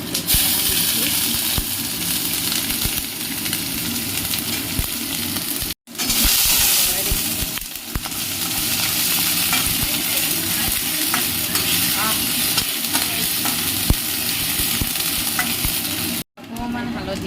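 Sliced onion and ginger-garlic paste frying in a hot pan, a loud, steady, close sizzle and hiss that holds without a break, broken only by two brief dropouts.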